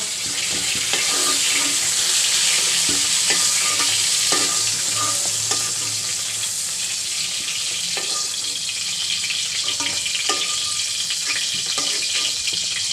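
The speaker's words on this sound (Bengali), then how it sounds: "এখন আমি এই তেলের মধ্যেই মাছগুলো ভেজে নেব" Mrigal fish frying in hot oil, a loud, continuous crackling sizzle with scattered pops and occasional utensil clatter, steady and close throughout.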